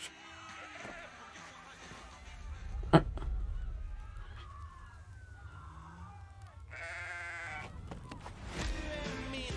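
A goat bleats a few times in the Goat Simulator 3 video game trailer, set among loud game sound effects and background music.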